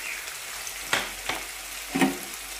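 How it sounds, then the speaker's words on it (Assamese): Garlic and ginger paste frying in a pan, a low sizzle broken by three short clattering stirs spaced about a second apart, close up and with no voices. "ৰচুনৰ আদাৰ গেছা গন্ধ যোৱালৈকে ভাজি লৈছে"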